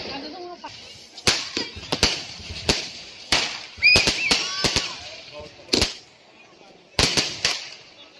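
Firecrackers burst in sharp, loud bangs, some single and some in quick clusters, with voices heard faintly between the pops.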